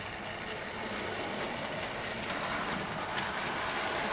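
A 00 gauge model railway train hauled by a B17 locomotive runs along a loft layout, giving a faint, steady rolling whir with light clicking over the track, with no talk.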